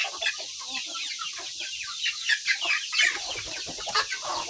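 Native chicken hens on a farm cluck and cackle together, a busy overlapping chorus of close, sharp calls with some distant fowl behind.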